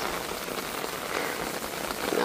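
Rain falling steadily on surfaces around someone out walking, a soft, even patter close by with no voices.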